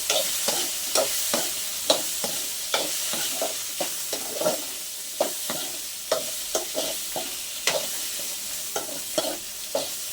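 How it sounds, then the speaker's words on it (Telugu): Drumstick pieces with turmeric fry in a pan, a constant sizzle broken by steady, rhythmic scraping strokes of a spoon stirring them, close and clear with no voices. "ఇప్పుడైతే పసుపు కూడా వేసేస్తాను, బాగా వేయించుకోవాలి వీటిని"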